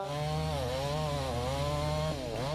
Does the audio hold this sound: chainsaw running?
yes